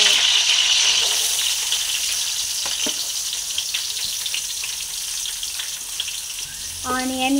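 Onions and green chillies fry in a pan for potato masala curry, a steady loud sizzle throughout, with a few stirring scrapes and a short clatter near the end.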